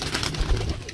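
Breeder pigeons in a loft coo in low, soft, rounded murmurs that overlap close by, with fluttering bird noise in the background and no talk.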